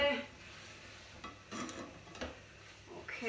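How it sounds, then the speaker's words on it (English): Beans for a multi bean chilli being stirred in a pot, soft scraping swishes with a faint sizzle underneath, a few louder stirring strokes in a short run. "I'll give them a stir, keep them going"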